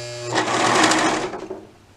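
A sewing machine stitches a dress in a fast, loud mechanical run that starts abruptly after a brief pause, holds steady for about a second, then tapers off, with no voices.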